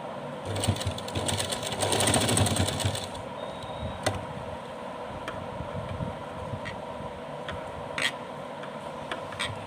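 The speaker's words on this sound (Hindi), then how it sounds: "फिर से कमर पर सिलाई लगा देंगे।" A sewing machine stitches the waist of a small handmade doll's dress, running fast and loud with a rapid needle clatter for about three seconds, then continuing more softly with occasional sharp ticks.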